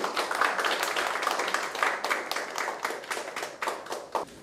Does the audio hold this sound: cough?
no